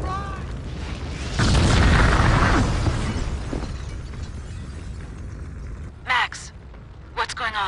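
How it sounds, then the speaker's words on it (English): A building explodes in the Max Payne 2 video game: a loud, sudden roaring blast with shattering debris that swells and slowly fades into rumble, followed by voices speaking. "The building's blowing up."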